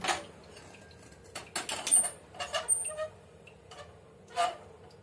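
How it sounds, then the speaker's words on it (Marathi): A metal wok clanks and scrapes on a stove in short bursts, a few sharp rattles as it is set down and shifted, with quiet gaps between. "सगळ्यात आधी कढई आपण घेऊ।"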